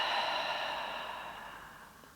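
A deep exhale released during a yoga breathing exercise, a single long, breathy rush of air close to the listener that slowly fades over about two seconds, with no talking.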